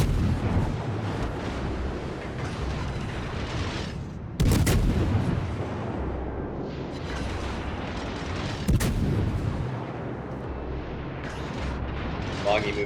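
Naval guns on the cruiser Worcester fire in a video game: a dense, continuous rumble of shelling punctuated by two sharp, loud blasts several seconds apart.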